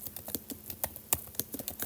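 Tapping on an iPad keyboard while entering code, a quick irregular run of light, close clicks and taps with brief pauses.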